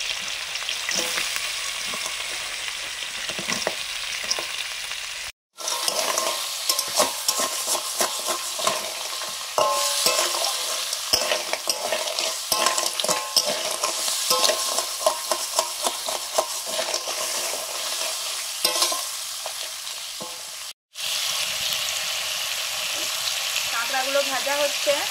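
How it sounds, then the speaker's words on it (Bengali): Crabs frying and being stirred in a pan, a steady loud sizzle with scraping stirs running nearly throughout, broken by two brief silent cuts. "কাঁকড়াগুলো ভেজে নিচ্ছি।"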